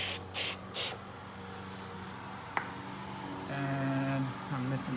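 Short bursts of aerosol adhesive spray hiss onto a 2007 Mustang door panel, two quick close sprays near the start, followed by a quiet stretch with faint background tones and handling sounds.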